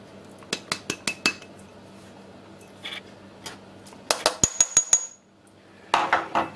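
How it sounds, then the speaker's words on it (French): A spoon clinks and scrapes against a metal saucepan while mixing sugar and starch, in quick, repeated taps, in several short bursts with brief pauses between them. "Je vais mélanger un peu tout ça."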